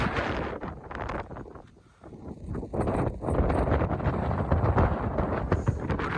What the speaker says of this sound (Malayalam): രക്ഷയില്ലാത്ത കാറ്റ് പറഞ്ഞാൽ ഒരു രക്ഷയില്ലാത്ത കാറ്റ്